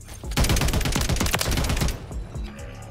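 Rapid automatic fire from a TAQ Evolvere rifle in Modern Warfare III rattles out in a steady, loud string of shots for about a second and a half, then cuts off, followed by quieter game sounds.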